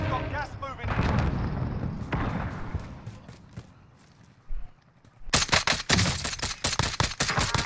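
Rapid automatic gunfire in Call of Duty Warzone, a dense burst of close, loud shots in the last few seconds, preceded by muffled game noise and a voice talking.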